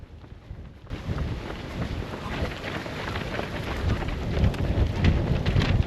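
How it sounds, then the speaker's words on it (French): Strong wind buffets the microphone outdoors during a 10 km road race, the Foulées Nazairiennes, a steady loud roar with gusty surges that swell toward the end, no voices. "Oh, il y a du vent, c'est un truc de ouf."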